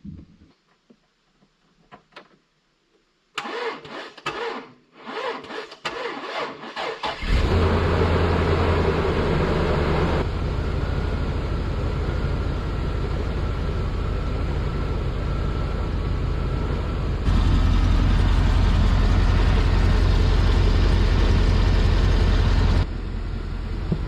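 A dump truck engine, just fixed after a gas line repair, is boosted and cranks with uneven clunks, then catches and settles into a loud, steady close-up rumble that keeps running.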